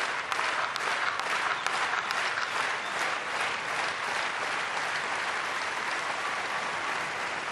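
A tennis exhibition crowd in Abu Dhabi applauds in a dense, steady wash of clapping that holds evenly for several seconds, loud and unbroken, with no clear voices over it.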